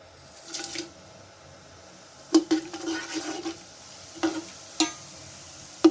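Whole spices dropped into hot oil give a soft sizzle with scattered stirring clinks of a spoon against the pan, a few sharp knocks spaced out over a quiet background, no talking.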